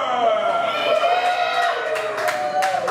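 Bar crowd at a Wednesday-night comedy show cheering, whooping and yelling loudly and steadily throughout, a dense, continuous wash of many voices with scattered claps underneath.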